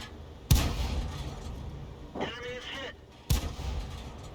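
Tank cannon shots in a combat video game boom out twice, each a sharp heavy blast with a rumbling tail, about three seconds apart, with a brief mechanical whine in between.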